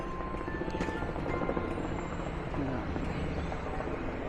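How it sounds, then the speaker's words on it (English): A helicopter drones steadily overhead with a constant low rotor rumble, while a person talks over it. "Helicopter's back again, different one."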